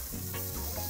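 Chopped onion hits a hot pot and sizzles steadily, a dense continuous frying hiss at close range with low bubbling underneath, filling the whole second without any voice.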